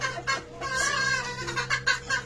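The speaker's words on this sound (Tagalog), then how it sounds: "Sa taas, nagkakakak yung manok ko" A kelso bull stag rooster cackling nearby, a run of loud, raspy clucking calls in uneven bursts with short pauses between them.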